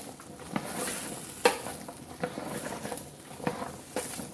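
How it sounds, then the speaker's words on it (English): Chili ingredients stirred and sautéing in an electric roaster set around 350, a low crackling sizzle with irregular soft scrapes and a few sharper knocks, fairly quiet and close. "I'll give this a stir"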